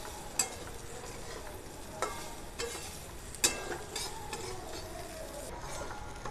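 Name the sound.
stirring drumstick curry with ground spices in a pan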